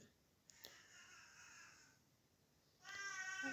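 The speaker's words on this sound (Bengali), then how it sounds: "দেখুন আমার বিড়ালটা আসছে ও এসে আমাকে খুঁজতেছে" A pet cat meows twice indoors in a kitchen, the second call louder and longer, with quiet pauses around them and no talking.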